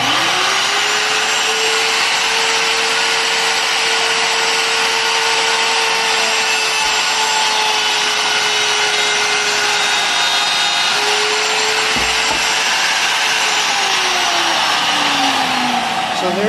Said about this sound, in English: my vacuum system that I have in my shop